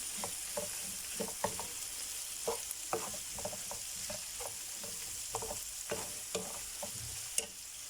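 Filling stirred in a pan with pepper flakes, black pepper and salt, giving a steady soft sizzle with irregular scraping clicks from the utensil throughout.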